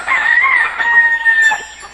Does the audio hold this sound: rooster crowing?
yes